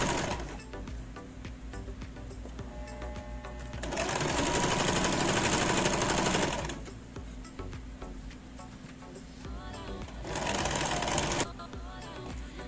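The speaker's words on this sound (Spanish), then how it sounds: "la vamos a cerrar toda alrededor con una costura como de 1 centímetro" A sewing machine sews a 1 cm seam around a small handbag in two loud bursts of fast stitching, the first longer, with quieter handling and faint background sound between runs.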